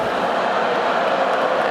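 A university lecture-hall audience erupts in a dense, loud crowd roar of booing that holds steady throughout, with no single voice standing out.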